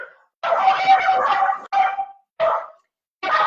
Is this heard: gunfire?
no